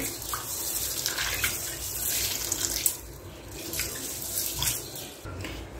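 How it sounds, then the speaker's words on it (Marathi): Running water gushes and splashes into a container as black-eyed peas are rinsed, a continuous close wash with some sloshing. "आता याच्यामध्ये पाणी घालून चवळी पहिले धुवून घ्यायची"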